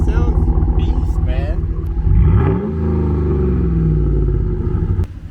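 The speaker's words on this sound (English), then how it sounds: "the new sound on the truck" A Ram Laramie pickup truck engine with a modified exhaust rumbles close by, deep and throaty, revving up then holding a low drone; a voice talks at first.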